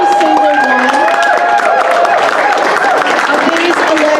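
Audience at a state campaign kickoff rally applauds elected leaders, a steady wash of clapping and cheering with talk and shouting riding over it throughout.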